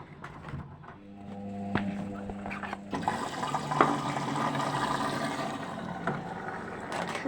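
An Arçelik 3320 SA washing machine fills and churns with water, a continuous sloshing rush that grows louder after a few seconds, with mechanical clicks and a low motor hum underneath.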